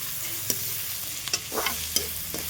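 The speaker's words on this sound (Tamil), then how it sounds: "எல்லாத்தையும் போட்டு தாளிச்சுக்குங்க" Spices, onion and green chillies stirred in sizzling hot oil in a pan, with scraping and occasional clinks over a steady low frying hiss.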